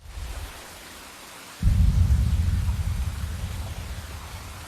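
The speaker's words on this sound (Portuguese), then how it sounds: "A cena fica silenciosa, ouvimos o barulho da chuva" Rain falls in a film scene from Godzilla (1998): after a quiet opening, a heavy, dense wash of rain starts abruptly and continues steadily, loud and full with a deep low rumble.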